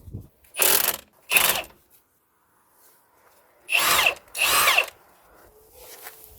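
A power tool zips loose the 18mm brake caliper carrier bolts on a BMW F10/F11. Four short, loud whirring bursts come in two pairs, separated by a silent pause.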